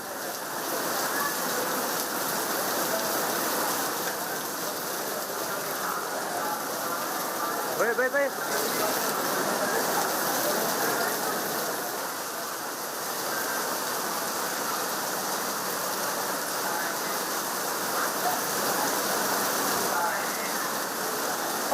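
Heavy rain pours over Bengaluru as a steady, dense hiss that lasts the whole stretch, while a voice talks faintly beneath it.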